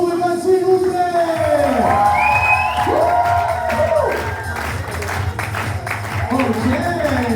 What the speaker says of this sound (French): Un tonnerre d'applaudissements pour Evan, s'il vous plaît.